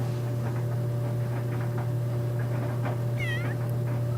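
A cat meows inside The Sims 3 life-simulation game, a single rising-and-falling mew near the end over a steady electrical hum and faint clicking game sounds.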